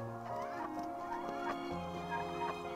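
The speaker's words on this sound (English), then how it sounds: "Hanging out with the chickens." Chickens cluck and murmur close by in a backyard flock, several overlapping calls in an irregular rhythm with a soft background, no talking.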